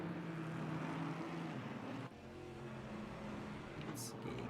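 GT4 race cars idle and drone through a formation lap at Kyalami or Spa in a racing video game, a steady engine hum running throughout under commentary, with a brief lull midway.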